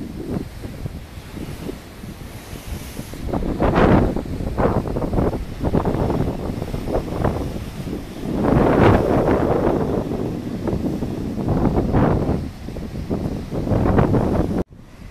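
Strong gusts buffet the microphone on the coast of Gozo, roaring and rumbling in surges, with big rolling waves crashing beneath.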